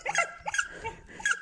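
A small puppy barks in three sharp, high yips with short gaps between them, close and fairly loud, with no talking.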